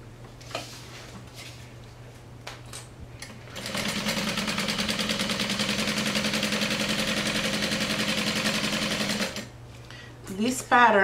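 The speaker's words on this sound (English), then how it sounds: "Now we're going to open it and we're going to stitch that box." A sewing machine stitches the box corner of a bag's lining, running fast and steady for about six seconds with a rapid rattling chatter between quieter handling sounds.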